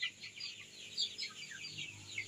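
A flock of month-old free-range chicks on a farm peeps and clucks continuously, a soft overlapping chorus of chirpy calls at close range with no talking.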